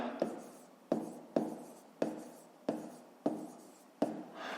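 A pen writes by hand on paper in a school maths lesson, a soft scratchy stroke repeating about every three-quarters of a second, quiet and close with no other sound.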